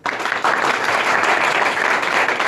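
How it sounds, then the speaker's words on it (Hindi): A room full of people at an inter college in Azamgarh claps loudly, the applause rising quickly and holding as a dense, steady patter. "भाई तालियां बजनी चाहिए इनके लिए"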